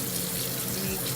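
Tap water runs steadily into a sink as a makeup brush is wetted before cleaning, a continuous close hiss with no talk.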